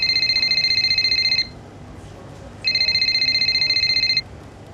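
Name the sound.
phone ringing in video game F1 25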